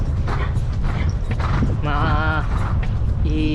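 Steady clip-clop of hooves over constant background noise, with a horse whinnying partway through.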